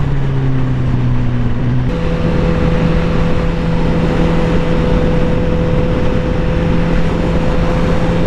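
A 2018 Honda CBR 1000 RR engine droning loud and steady while riding, with a gear change partway through shifting the pitch; wind rush underneath.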